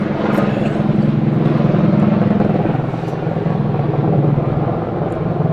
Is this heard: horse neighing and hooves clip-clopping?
no